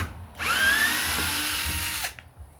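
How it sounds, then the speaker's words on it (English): A power drill fitted with a 3/16 drill bit bores through a stainless oval rubrail on a boat, one steady high whine for about a second and a half that starts abruptly and stops, close and loud with no talking. "Now we're going to take our 3/16 drill bit, drill right through."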